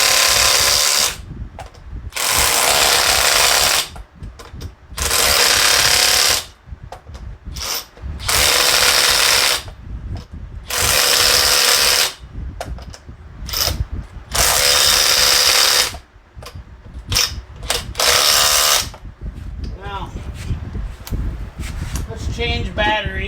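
A DeWalt MCF801 cordless impact wrench hammers nuts back on in a series of loud, close bursts, each several seconds long, separated by short pauses.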